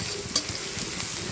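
Whole spices — cinnamon, cardamom, clove and bay leaf — fry in hot oil in a pan for a chicken and dal dish, giving a steady soft sizzle with a brief stir or clink near the start, no talking.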